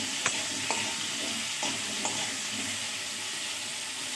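Potatoes frying in a pan with a little salt, along with pieces of papaya, a steady soft sizzle with a few light stirring clicks of the spatula, no voices.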